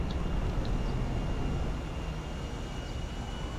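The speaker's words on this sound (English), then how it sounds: "Hear a plane." An airplane passes overhead in Grand Theft Auto V, a steady broad engine drone that holds fairly level and eases slightly over a few seconds, with no talk.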